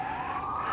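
An emergency vehicle siren wails in one continuous, slowly rising tone, loud and fairly close, with no talk over it.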